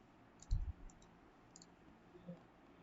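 Two quick computer mouse clicks sound close and faint in a quiet room while a sketch line is drawn in SolidWorks, followed by a softer click a moment later.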